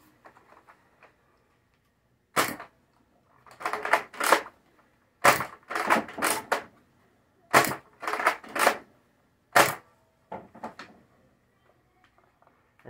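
A Nerf Flipshots Flip-32 blaster firing shotgun blasts with the trigger pulled hard, heard as a series of sharp, loud mechanical snaps and clacks in irregular bursts, close up and without talk.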